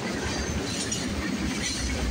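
Freight train CN M399 led by three Union Pacific locomotives passing at night, a loud, continuous rumble and rattle of rolling cars with faint metallic clatter.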